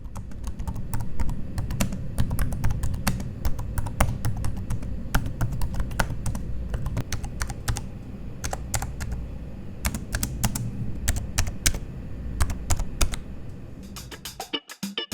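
Steady, rapid typing on the soft membrane keyboard of an ASUS ExpertBook P3 laptop, 1.5mm key travel, many light muted clicks in an even stream with no speech, ending abruptly.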